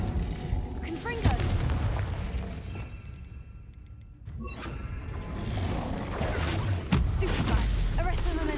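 A Confringo fire spell from Hogwarts Legacy bursts in loud booming explosions, with a strong blast near the start and another toward the end, amid clattering game effects.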